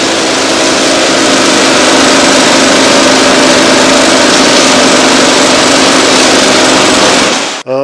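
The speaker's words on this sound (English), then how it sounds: "we're going to show you an operating drill here" A pneumatic rock drill gives a loud, continuous mechanical roar with a harsh hammering buzz that runs steadily throughout, cutting off abruptly at the very end.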